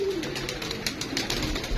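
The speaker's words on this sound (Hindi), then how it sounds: "सारे प्यासे कबूतर हैं।" Pigeons coo softly on a rooftop, a faint low murmur of cooing birds under light background noise.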